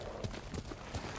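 Horse hooves clip-clopping in the video game Ghost of Tsushima, several moderately loud steady hoofbeats at a brisk pace under a faint low background.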